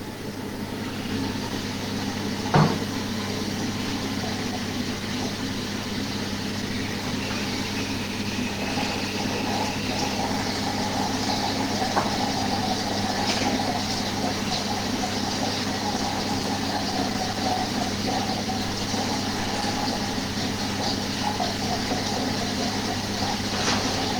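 A kitchen food processor runs for 30 seconds at speed 5, blending a liquid tuna loaf batter with a steady, even motor drone and one brief knock near the start, with no talking over it.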